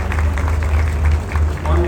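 Audience applause at a housing-scheme balloting results event in Islamabad, a dense steady wash of clapping from a crowd, with a voice speaking over it.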